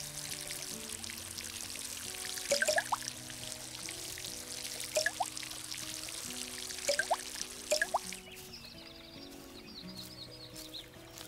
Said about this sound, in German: So, dann können wir das hier gleich gießen.